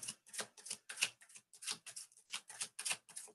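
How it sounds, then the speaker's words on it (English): Tarot cards shuffled by hand in a quiet room, a steady run of crisp riffling bursts about every third of a second, close and alone with no talk. "I'm just going to sit here shuffling."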